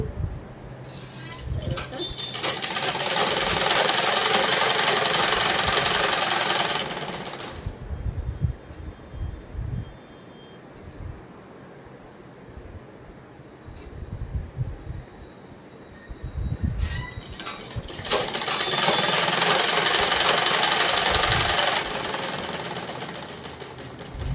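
A sewing machine stitches leggings in two long, loud whirring bursts several seconds each, separated by a quieter stretch of handling and fabric rustle.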